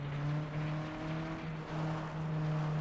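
A race car engine in FlatOut 2 drones at low revs, a steady mid-distance hum holding one pitch with slight wavers, no voices over it.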